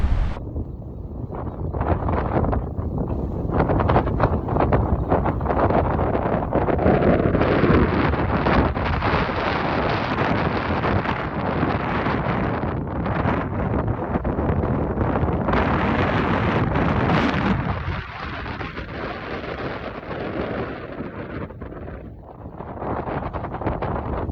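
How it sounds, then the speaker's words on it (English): Strong wind buffets the microphone in continuous loud gusts beside a small urban fishing water, easing slightly toward the end. "And it's so windy."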